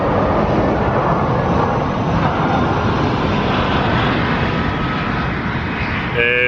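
A loud, continuous roar of a landing airplane's engine fills the air, steady and close overhead throughout, with planes landing about every five minutes.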